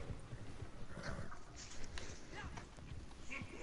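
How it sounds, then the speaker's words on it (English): Horse hooves clatter in Red Dead Redemption 2 as the agitated, kicking horse moves about, a quiet rhythmic clip-clop heard beneath ongoing talk. "this horse is garbage. He's kicking and like freaking out"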